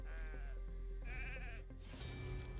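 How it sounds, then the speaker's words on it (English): Sheep in a video game give a few wavering, nasal bleats, close and clear over a low, steady game background hum. "Oh no, it's the sheep."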